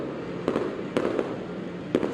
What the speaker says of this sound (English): Caitlin, tell us what it's like underneath all the fireworks there